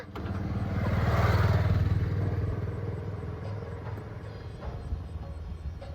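A motorcycle engine rumbles past close by, swelling then fading into a steadier idle-like drone.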